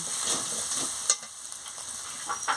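Chili and turmeric powder masala being stir-fried for aloo dum, with steady sizzling broken by a few distinct spatula scrapes and clinks, close and alone with no voices.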